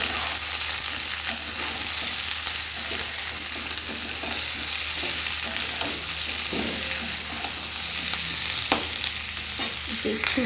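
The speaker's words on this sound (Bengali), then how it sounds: "একটু ভাজা হোক।" Crushed garlic and ginger fry in hot oil in a pan, giving a steady, close sizzle with scraping and clinking strokes as they are stirred, and no talking.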